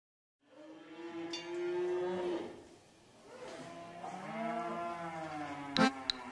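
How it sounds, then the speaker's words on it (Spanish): Cow mooing in a children's song, two long drawn-out moos with sliding pitch, close and clear, followed by a brief sharp knock near the end. "La vaca mua."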